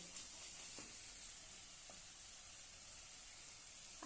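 Gravy for a spicy potato curry sizzles quietly as it is sautéed in a pan, a soft, continuous hiss with a few light stirring scrapes.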